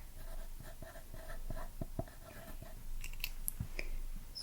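A pen scratches out notes on paper in a quiet room, with a string of soft, close, irregular strokes and taps, then a few faint higher clicks near the end.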